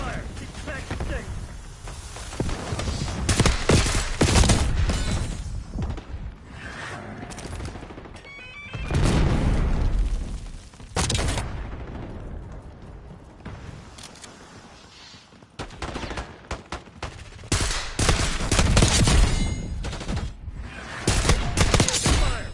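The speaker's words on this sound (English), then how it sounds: "HVT is taking fire." A video game firefight with bursts of rapid gunfire and heavy shots, loud and dense, coming in waves with short lulls, under occasional voices.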